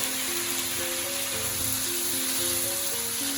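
Chopped tomatoes go into a sizzling pan of prawn curry, producing a dense, steady hiss of frying that runs evenly throughout, with soft background music tones underneath.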